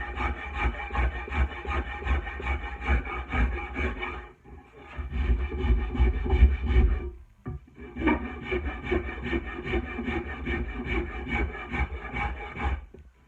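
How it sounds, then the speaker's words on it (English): A Shinto wood rasp works along a wooden axe handle, flattening high spots with steady, close, continuous rasping strokes. One brief pause near the middle, then the scraping resumes to the end. "So again, Shinto wood rasp. I know I'm high here, so I'm just going to take off these high spots and flatten this handle the whole length of it."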